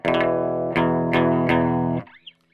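An electric guitar with a humbucker bridge pickup plays through a bypassed pedal, four sustained chord strums ringing out in steady succession before being cut off with a brief squeal.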